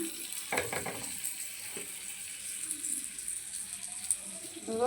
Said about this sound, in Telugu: బటర్ వేస్తున్నా, బ్రెడ్ వేసేస్తున్నా